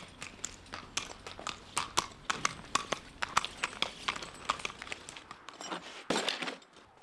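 A horse with shod hooves clip-clops at a steady walking rhythm, sharp close strikes with some crunchy scuffing underfoot, fairly quiet overall and with no talk.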